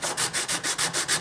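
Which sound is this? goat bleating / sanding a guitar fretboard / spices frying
sanding a guitar fretboard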